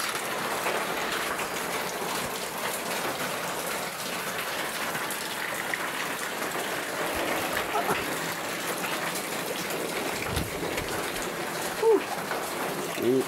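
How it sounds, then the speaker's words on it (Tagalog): Steady, soft typhoon rain patters continuously on surfaces nearby, a light even hiss with no talking over it. "Umuulan."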